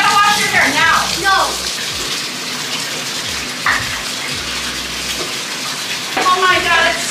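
Shower water runs and splashes while a boy's hair is washed with gorilla glue stuck in it, a steady gush at close range, with intermittent bursts of excited voices over the stream.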